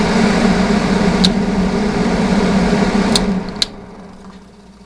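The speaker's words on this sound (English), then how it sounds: "Let the fan suck it out." A 1970 Triangle Mobile Home Products bathroom exhaust fan runs with a steady, loud hum and whir, a few faint clicks over it, then the motor cuts and the drone winds down toward quiet near the end.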